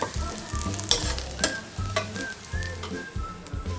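Masala for chicken kharda sizzling in a pan as it is stir-fried, a steady crackling fry with frequent rhythmic clanks and scrapes of a spatula against metal, close and without speech.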